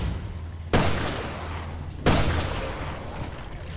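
Two loud, close Magnum revolver shots in the Resident Evil Revelations 2 video game, about a second and a half apart, each one a sharp crack with a long decaying tail.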